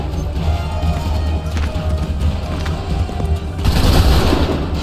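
Musket volley fire in Assassin's Creed 3, loud and close, with a constant heavy battle din of overlapping booms and crashes that swells into a bigger roar near the end.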